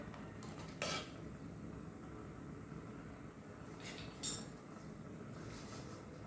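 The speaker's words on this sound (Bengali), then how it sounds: "সেমাই দিয়ে ভালো করে সাথে সাথে নেড়ে দিতে হবে, না হলে দলা পাকিয়ে যাবে" Vermicelli is stirred into milk in a pot, with a low simmering rumble and two brief metallic clinks of a utensil against the pot, nearby with no talking.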